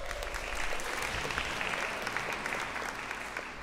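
An audience at a Phi Beta Kappa convocation applauds its inductees with sustained, full-bodied clapping from many people, holding steady at a strong level throughout.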